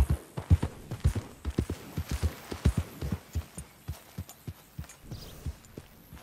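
Horse hooves clip-clopping in the video game Red Dead Redemption 2, a steady walking rhythm of close, dull thuds that carries on for several seconds and fades slightly at the end.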